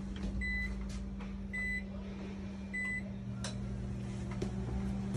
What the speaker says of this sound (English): We're going to run the microwave for a little bit.